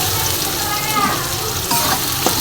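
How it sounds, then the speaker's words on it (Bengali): Machine-grated onion fries in hot oil, a loud dense sizzle with bursts of bubbling and a few stirring scrapes, continuous from start to finish. "2টো পেঁয়াজই এবার লাল লাল করে ভাজা হবে"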